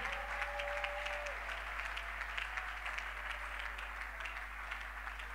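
A church congregation applauds with sustained, even clapping from many hands filling the room, steady throughout with no voices above it.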